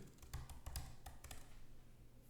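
Quick bursts of keystrokes on a computer keyboard as a short filename and a word are typed, a few clustered taps standing out over a faint room hum.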